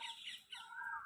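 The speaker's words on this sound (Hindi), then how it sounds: "तोतों की भी आवाज़ आ रही है।" Two harsh, faint parrot squawks in quick succession in Delhi, raspy and nasal, heard at a distance without other sounds.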